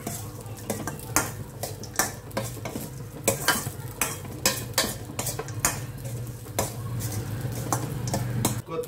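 Salted rice for pulihora being stirred in a pan with fried tempering, repeated sharp spatula scrapes and knocks against metal over a low sizzle, close and rhythmic for several seconds.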